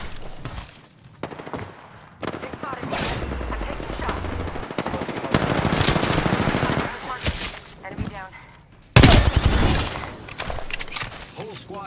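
Heavy automatic gunfire in the battle royale game Apex Legends, long rattling bursts from a machine gun alongside single shots and sharp impacts, loud and close, with a voice speaking briefly between the volleys.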